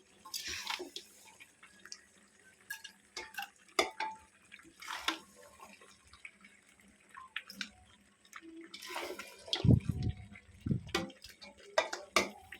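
Mutton curry is lifted with a slotted spoon into a pressure cooker, giving scattered metallic clinks and scrapes, wet plops and drips in short bursts separated by quiet gaps.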